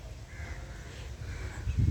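Crows caw from a big banyan tree at Munambam fishing harbour, with a few harsh calls at moderate distance over outdoor background noise.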